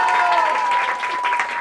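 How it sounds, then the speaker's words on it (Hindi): An audience at a Hindi quiz event applauds a tied second-place team, a dense burst of steady clapping with a faint voice mixed in. "इनके लिए भी तालियां हो जाए।"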